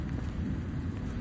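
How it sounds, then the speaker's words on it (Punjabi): Heavy rain with strong wind in Punjab farmland, over vegetable and wheat fields, a dense, steady roar of rainfall with low rumbling gusts, filling the whole moment without speech. "ਹਾਲੇ ਵੀ ਚੱਲ ਰਹੀ ਹੈ ਬਾਰਿਸ਼ ਬਹੁਤ ਜ਼ਿਆਦਾ ਹਵਾ"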